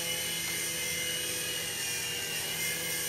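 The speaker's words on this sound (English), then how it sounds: "This thing's a lot quieter than my little Havoc Heli." A Titan T505 RC helicopter flies indoors with a steady, high-pitched whine from its motor and rotor. The sound is close, continuous and fairly quiet, with no talk.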